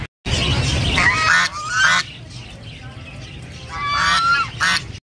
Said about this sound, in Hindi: ये देखो भाई कितनी बड़ी बड़ी बत्तखें हैं यहाँ